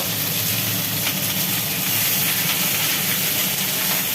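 Water poured into a hot pan while cooking jackfruit curry hisses and sputters in a loud, continuous sizzling roar that stays steady throughout, with no voices.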